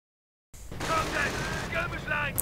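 Video game battle audio of an incendiary grenade going off with gunfire, a dense burst of shots and booms that starts abruptly after a moment of silence and stays loud throughout.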